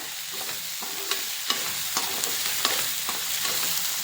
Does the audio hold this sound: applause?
no